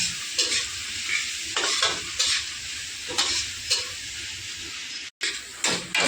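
Onions for a mutton dish sizzle steadily in a pan at home, with a spatula scraping and stirring them every second or so over the continuous frying hiss.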